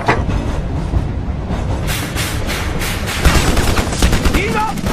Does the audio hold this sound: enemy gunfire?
yes